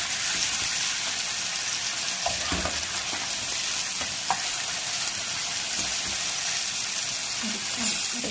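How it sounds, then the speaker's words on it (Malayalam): Sardines with green chilli pepper masala sizzle steadily in a frying pan, a dense close hiss broken by occasional soft scrapes and clinks as the fish are turned. "ഒരു സൈഡ് മുറിഞ്ഞതിന് ശേഷം നമ്മൾ ഇതിനെ ഫ്ലിപ്പ് ചെയ്യുക, ഇതിനെ ഫ്രൈ ചെയ്തെടുക്കുക."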